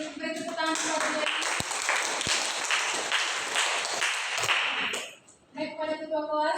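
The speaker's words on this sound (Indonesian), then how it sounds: "Beri tepuk tangan" Classmates clap together in an Indonesian school classroom, a dense burst of applause lasting about five seconds that stops abruptly, with voices speaking before and after it.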